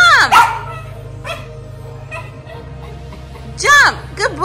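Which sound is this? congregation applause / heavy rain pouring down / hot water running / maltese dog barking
maltese dog barking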